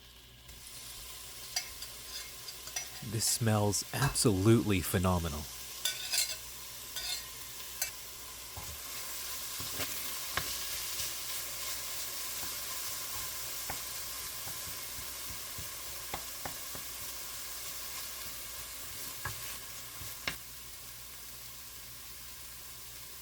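Ginger, garlic and chili mix frying in a pot: a steady soft sizzle under stirring clatter, busiest early on, then a calmer hiss with occasional scrapes; one brief spoken remark.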